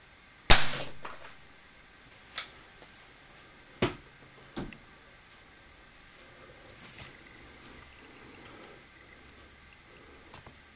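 A .22 air rifle fires a pellet at a coconut, giving one sharp, loud crack. A few fainter clicks and taps follow in an otherwise quiet outdoor setting.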